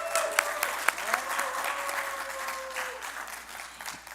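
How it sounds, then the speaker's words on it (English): Audience at a doctoral homecoming alumni reception and mixer clapping, a steady roomful of applause with a few sharp individual claps standing out and a faint tone running beneath, fading slightly toward the end. "Let's have a round of applause for us."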